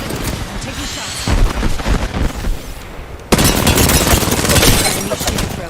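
Dense in-game gunfire from a multiplayer shooter, bursts and booms packed close together, loud and continuous, with a sharp jump in intensity partway through and speech mixed in.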